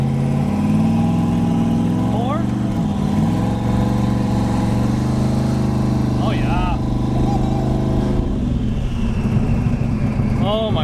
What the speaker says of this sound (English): Oh my god, the turbos are so loud in this thing.